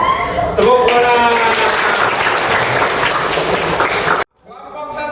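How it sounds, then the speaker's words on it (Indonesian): A classroom group bursts into loud, sustained clapping during a teaching session, dense applause with voices mixed in that cuts off abruptly near the end before speech resumes. "Tepuk tangan."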